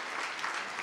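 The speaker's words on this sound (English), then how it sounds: "One more round of hand up applause for our dear pastor and his wife." Steady, dense applause from a church congregation honoring the pastor and his wife, a continuous wash of many hands clapping at moderate distance.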